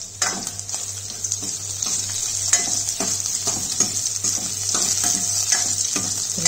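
Mango gojju sizzling and frying in a pan, a steady crackling hiss with occasional stirring scrapes, close and continuous with no talking.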